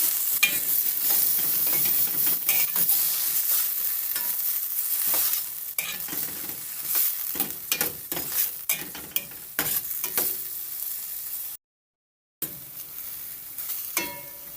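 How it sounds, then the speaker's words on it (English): Mixed vegetables sizzle steadily in a hot pan during frying for frankfurter and egg fried rice, with repeated scraping stirs throughout and a brief gap of silence near the end. "Add in some mixed vegetable. Giving it a stir."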